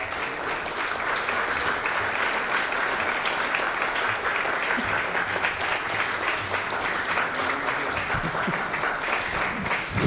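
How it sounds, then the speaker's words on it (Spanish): Sustained, loud applause from an audience at the ceremony certifying Paraguay free of malaria, dense and even clapping that continues through the whole ten seconds. "por favor, un muy fuerte y merecido aplauso."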